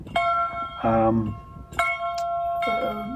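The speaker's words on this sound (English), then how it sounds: "ringing the bell in Rogers Garden" A memorial bell in Rogers Garden, Vancouver, rings out with a clear metallic tone, struck twice with lingering overtones, while people talk nearby between the strikes.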